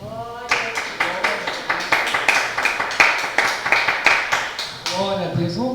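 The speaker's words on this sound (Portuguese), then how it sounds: "eu convido todos agora para nós dar uma salva de palmas para o Senhor Jesus Cristo" A church congregation at a Pentecostal Assembleia de Deus service claps together in a steady, fairly quick rhythm of sharp hand claps, loud and close, with voices and a musical tone around the start and end.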